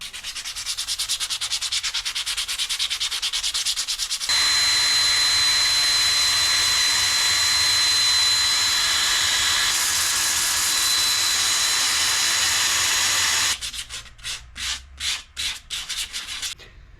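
Steady, loud sanding of an old piece of firewood on a wood lathe, a continuous abrasive rasp that runs for most of the stretch, then breaks into short rhythmic back-and-forth strokes near the end.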